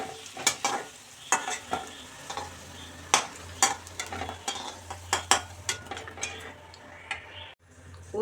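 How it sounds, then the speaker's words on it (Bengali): Two potatoes fry in hot oil in a pan, a low steady sizzle running underneath repeated sharp scraping clicks of a spatula turning them, close and busy throughout. "আলুগুলো ভেজে তুলে নেব"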